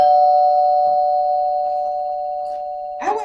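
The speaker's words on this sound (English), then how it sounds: "Is that the doorbell?" A doorbell chime rings during a family stage play, one clear sustained tone that slowly fades, with a voice briefly breaking in at the very end.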